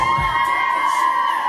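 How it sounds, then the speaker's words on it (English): A crowd of women at a wedding screams and cheers in a loud, continuous, high-pitched roar, with a sustained tone running under it. "Ladies, scream for me back there."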